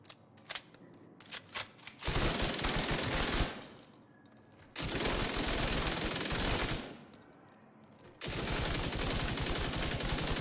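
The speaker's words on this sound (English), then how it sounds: "this is gonna be Frenzy on the new LMG" The Frenzy LMG fires in The Division 2 in three long, loud bursts of rapid automatic fire with short gaps between them, after a few scattered single shots.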